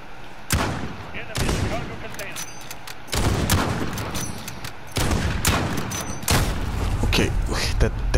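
Carbine fire from the Modern Warfare video game crackles in loud, rapid bursts, several separate volleys with short gaps between them, close and punchy, with muffled booms underneath.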